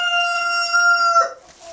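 A single loud, near rooster crow rings out inside a poultry house on a small farm, a long sustained call that breaks off near the end, followed by faint hen clucking.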